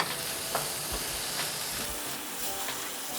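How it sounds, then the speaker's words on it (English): Plain Greek yogurt and almond paste stirred into a sizzling Bengali chicken curry, a steady frying hiss with soft spoon scrapes against the pan, close and continuous with no talk. "we're just gonna stir that in"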